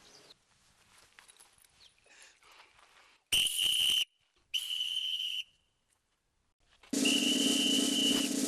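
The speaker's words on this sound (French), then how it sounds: "Dina, siffle le rassemblement." A whistle blown to call an assembly, sounding in three sharp, loud, sustained blasts, the last the longest, after a stretch of quiet footsteps and shuffling.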